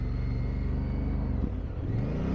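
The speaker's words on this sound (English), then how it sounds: "I am on the ultra smooth feeling Africa Twin" A 2017 Honda Africa Twin motorcycle engine while riding, a close, steady low rumble with a faint whine, shifting pitch slightly near the end with no voices.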